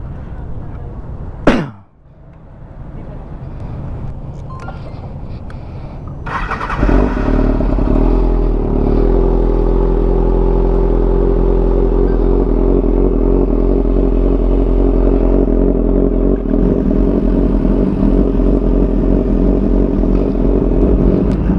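A Kawasaki ZH2 motorcycle engine starts with a sharp crank, then idles loudly and steadily up close, its low rumble holding with slight revs throughout.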